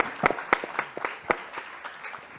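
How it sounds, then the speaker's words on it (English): A small audience at an ethics summit gives a panel scattered applause, a handful of distinct, sharp claps standing out over a thin patter that gradually fades. "Let's give them a big round of applause."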